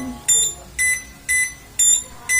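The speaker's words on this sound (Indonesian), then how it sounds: "alarm akan menyala selama 1 menit" Digital clock alarm sounding in a rapid series of five evenly spaced shrill electronic beep bursts, loud and close with short gaps of quiet between them.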